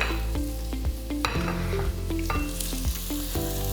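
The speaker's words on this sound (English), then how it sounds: "So we're allowing this here to sear in the pan nicely" Dredged chicken pieces sizzle steadily in a hot pan, with repeated scraping and stirring strokes close by and no voices.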